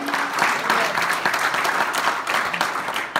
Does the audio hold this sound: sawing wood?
no